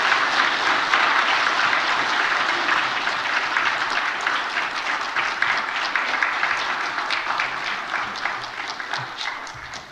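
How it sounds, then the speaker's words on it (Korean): A church congregation claps loudly and steadily in a dense wave of applause that holds for several seconds and slowly thins toward the end. "큰 박수로 축하해 주시기 바랍니다."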